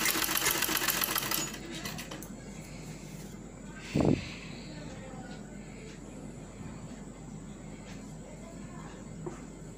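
Sewing machine stitching piping on an A-line frock, a fast, even mechanical whirr in the opening seconds, then fainter running with a thump and light handling noises.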